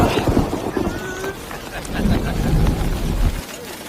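Heavy rain and rolling thunder, a dense roar of rainfall with deep rumbling swells, loud and close with wind buffeting the microphone.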